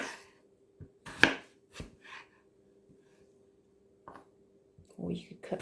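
A knife chops leftover pasty and bake on a board in a handful of sparse, sharp close knocks with quiet pauses between, alongside some breathy mouth sounds.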